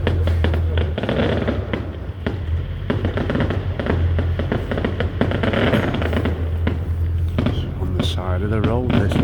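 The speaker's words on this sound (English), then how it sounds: "Side of the road this, guys, these fireworks, crazy." Fireworks go off beside a road during the Christmas season, a dense continuous crackle and popping with steady low rumble, loud and close, with people talking over it.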